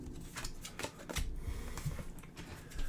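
Playing cards are shuffled during a tabletop session of the Pathfinder Adventure Card Game, a quiet, continuous riffling and flicking at low level with no voices.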